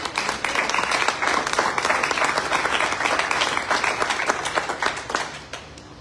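A church congregation breaks into dense, sustained applause at a worship service, many hands clapping together loudly for several seconds before the clapping thins out and fades at the end.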